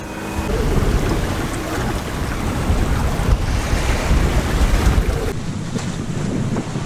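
Solo sailboat running downwind under genoa at about six knots, with loud rushing water against the hull, surging waves and heavy wind buffeting the microphone throughout.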